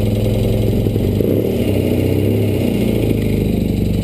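A 1973 BMW R75/5 motorcycle runs on a cold start at half choke indoors, giving a steady, loud, throbbing idle with a fast even pulse throughout and no voices.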